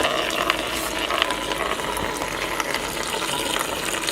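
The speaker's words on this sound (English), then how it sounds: "Roughly about 10 litres of coolant are going to come out of there." Coolant pours from the radiator drain plug of a BMW E90 into a bucket, a steady, close rushing and splashing of liquid that runs unbroken throughout, fairly loud, with no talking.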